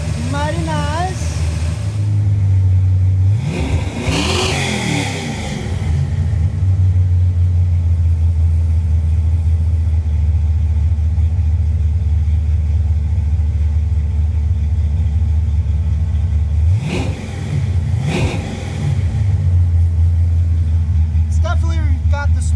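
A race car engine with its exhaust fitted idles with a low steady rumble, then revs up twice in short bursts, loud and close.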